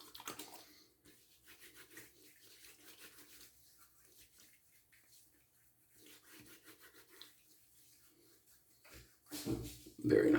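Razor shaving across skin in close, soft rasping strokes, faint and repetitive, with a louder rinse or scrape near the end.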